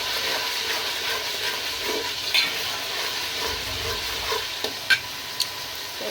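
Bay leaves dropped into a hot pan while cooking pulao, a continuous close sizzle with occasional scraping stirs and a few light metallic clinks.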